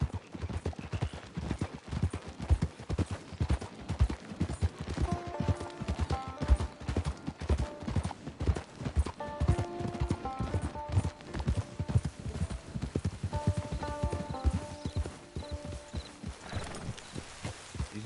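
Steady clip-clop of horse hooves on the move in Red Dead Redemption 2, a loud, close, rhythmic trot running throughout, with occasional tonal game sounds layered above.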